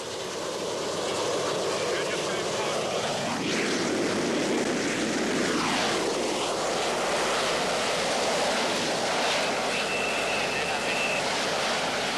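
A steady roar of a low-flying aircraft engine with passing pitch sweeps, dense and continuous like rushing wind, as it comes down to land on a small 70-foot-square spot.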